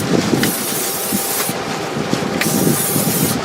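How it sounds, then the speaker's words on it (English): Cooking spray oil hissed onto a smoker rack, a few short bursts of close, airy spray over steady broadband background noise. "going to put a little spray oil on the rack."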